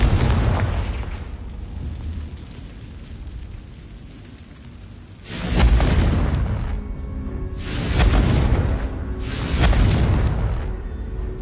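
Confringo fire curse blasts from the video game Hogwarts Legacy, three heavy booming explosions a couple of seconds apart, each with a rumbling tail, after a quieter stretch of game ambience.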